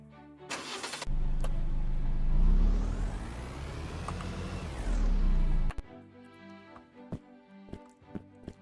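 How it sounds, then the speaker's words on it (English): A car engine in the Fishton video game starts with a short burst, then drones and swells steadily as the car moves for several seconds before cutting off, leaving scattered clicks and soft game sounds. "let's move the car out of the way"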